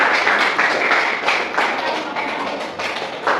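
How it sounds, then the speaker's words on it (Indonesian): A classroom group of teachers-in-training claps for group 4 after their presentation, a dense, steady applause lasting throughout with no talk over it. "kita kasih aplaus untuk kelompok 4"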